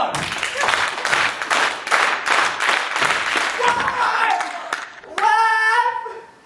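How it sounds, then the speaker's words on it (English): An audience claps along during a live storytelling performance, rhythmic group clapping running for several seconds, then giving way to a voice speaking with a sung or drawn-out tone near the end. "if we can all clap along and help Olaf psych up"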